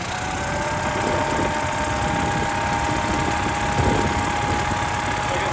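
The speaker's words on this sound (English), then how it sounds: "I'm going to go ahead and start the generator" Generator on a 1973 GMC Painted Desert RV running at a steady idle, a continuous mechanical hum with faint rattling vibration, fairly close and even in level throughout.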